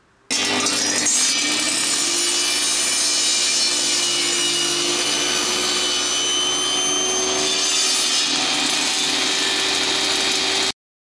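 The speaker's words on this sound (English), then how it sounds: "I clamped the 2 sides to the table saw sled so that when I cut the piece" A table saw rips long wooden side pieces clamped to a sled, a loud steady whine with a rising blade tone that runs continuously for about ten seconds before cutting off abruptly.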